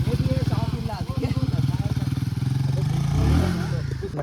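A Royal Enfield Himalayan 450 motorcycle picking its way down a rocky forest trail, its engine thumping in a steady low rhythm close by with a brief rise in revs, while a rider talks over it.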